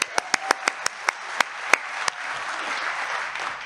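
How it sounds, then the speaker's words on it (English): A theatre audience applauds at an evening party with a live band, sharp separate claps at first merging into a steady wash of clapping that fades over a few seconds. "Save a bit of applause for the end, won't you?"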